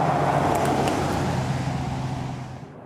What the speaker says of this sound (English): the only sound is that of the occasional passing car